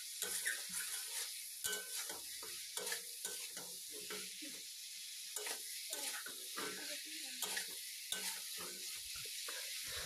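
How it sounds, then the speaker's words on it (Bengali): Chicken pieces stir-fried with spice paste in a pan for a village-style curry, giving steady close sizzling and frying crackle with repeated scraping stir strokes throughout. "তো এবার আমি কিন্তু মাংসটাকে কষিয়ে নিচ্ছি"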